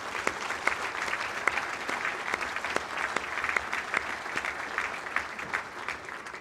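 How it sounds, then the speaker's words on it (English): Steady applause from an audience, many hands clapping continuously at moderate loudness for several seconds. "Let's give them another round of applause."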